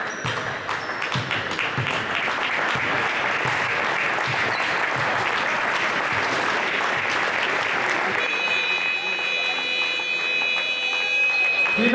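Sustained crowd applause and cheering fills a basketball arena at the end of an under-18 tournament game, loud and continuous, with voices mixed in and whistling tones near the close.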